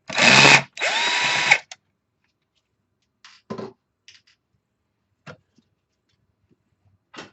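An electric power screwdriver whirs in two short loud bursts while backing screws out of an MP Mini Delta 3D printer, followed by faint clicks and handling taps of the loosened parts.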